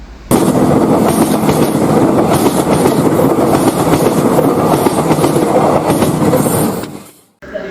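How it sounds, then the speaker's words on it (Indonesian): A train arriving at Yogyakarta station rumbles loudly along the rails with rhythmic clickety-clack from the wheels, steady and close, before fading out at the end. "Sesaat lagi kereta tiba di stasiun Yogyakarta."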